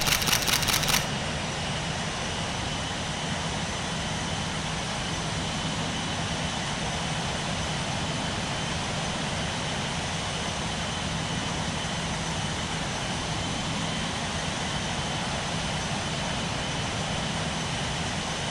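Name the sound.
airliner landing at Manchester airport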